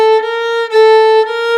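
Two sustained tones a half step apart, one alternating with the other in a steady, loud, harmonically rich pattern with no voices.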